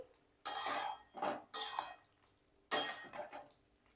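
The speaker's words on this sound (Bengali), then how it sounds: "শাকটা দিয়ে ভালো করে কিন্তু আবারও মিশিয়ে দিচ্ছি" A utensil scrapes and stirs spinach with bottle gourd in a pan, three bursts of clattering, scraping strokes with short pauses between them, close and clear with no talk.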